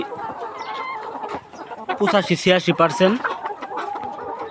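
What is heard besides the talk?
190-day-old layer hens clucking on a farm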